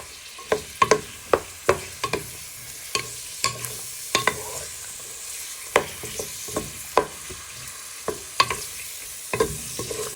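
Pork with onion and garlic frying on medium heat in a pot, with a soft continuous sizzle under repeated sharp scrapes and clacks of a spoon stirring at irregular intervals.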